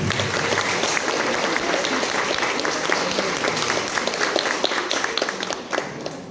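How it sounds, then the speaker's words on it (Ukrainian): A crowd applauds steadily at a graduation ceremony held in the rain, a thick, continuous patter of many hands that thins slightly toward the end. "оплесками наших міських"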